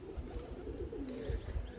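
Loose pigeons coo softly outdoors, a low steady burble close by that runs through the whole short stretch without a break.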